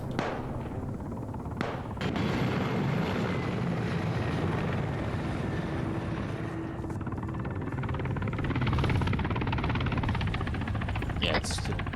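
Helicopters in the military game Arma 3 drone with a low, continuous rotor rumble that swells and fades, with occasional sharp bursts of gunfire and players talking over the noise.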